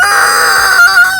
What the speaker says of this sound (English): there's some beautiful roosters